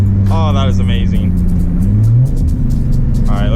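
A Nissan G35 with a rear-mounted turbo revs loudly up close, a steady deep engine drone rising in pitch with a spooling whine, while a person speaks briefly over it at the start and end.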